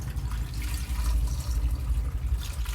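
Water is poured over a cleaned barracuda fish, a steady splashing, gurgling flow that runs close and continuous for a few seconds with no talk.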